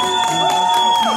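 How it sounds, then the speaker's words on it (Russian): Crowd cheering for a contest winner at a yellow-themed party, loud whoops and shouts rising over a steady sustained musical tone, with some clapping mixed in. "Аплодисменты ему."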